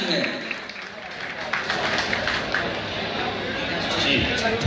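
A crowd applauds at a social gathering of a hairdressers' welfare society, with steady, dense clapping that fills the whole stretch and voices mixed in.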